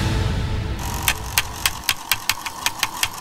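A portable electric fan whirs with a low hum, then a regular clicking tick starts and repeats about every quarter second, close and fairly loud, with no voices.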